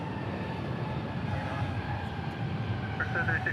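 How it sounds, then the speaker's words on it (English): Air France Airbus A350 jet airliner roaring steadily with a broad, sustained engine rumble at an airport, loud and continuous with no clear rise or fade, a faint whine rising near the end. "Air France on an A350."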